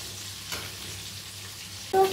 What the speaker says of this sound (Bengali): এইভাবে এটাকে উল্টে দিয়ে আমি হালকা ফ্লেমে ভেজে নেব।